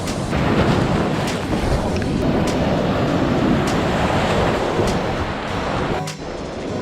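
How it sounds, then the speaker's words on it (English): Loud, steady roar of strong surf during a storm in the Linapacan Islands, El Nido, with waves crashing nearby on a sandy beach, a continuous rumbling wash close to the listener. "This wave is actually kind of strong."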